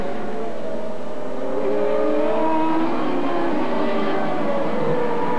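CART Indycar race cars at Mid Ohio in 1987, a loud sustained engine drone with rising and falling pitch as cars pass through the keyhole section, steady and unbroken throughout.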